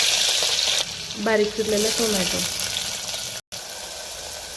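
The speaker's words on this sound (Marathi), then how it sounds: "मातीच्या भांड्यामध्ये तेल गरम करून घेतलं, त्यात टाकते जिरे मोहरी छान तळू द्यायची" Cumin and mustard seeds sizzle in hot oil in a clay pot, a steady crackling hiss that continues while someone speaks, then cuts out briefly near the end.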